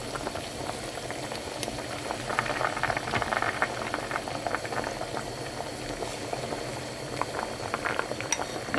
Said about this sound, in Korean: 먼저 무 넣고 5분 끓였습니다